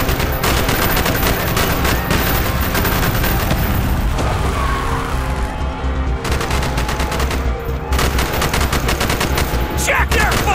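Dense, continuous gunfire fills a Call of Duty Black Ops street battle, with overlapping rifle bursts and booms throughout and squad voices calling out under the shooting.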